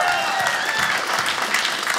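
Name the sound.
audience applause at a comedy club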